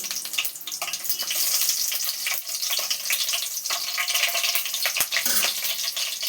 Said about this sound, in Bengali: প্রথমে তেল, লঙ্কার 5 ফোড়ন,